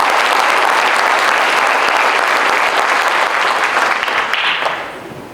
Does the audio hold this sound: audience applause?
yes